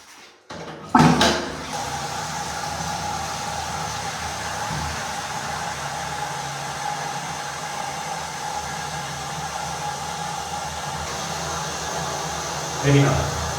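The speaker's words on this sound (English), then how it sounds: "I'll bet you if I flush the toilet, it drains very fast" A household toilet on a septic system flushes with a sudden loud rush, then settles into a steady whooshing drain that holds for several seconds before a brief gurgle near the end.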